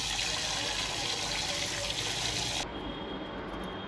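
Rice is washed in water for mutton biryani, with a steady close gush of running water that continues alone and slightly softens near the end.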